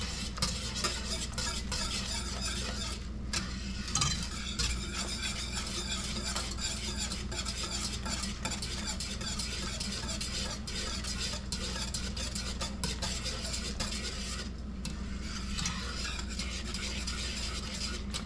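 A spiced pickling liquid for purple pickled eggs cooks in a pot on the stove, a steady low bubbling and hiss with occasional utensil clinks, fairly quiet and continuous without speech.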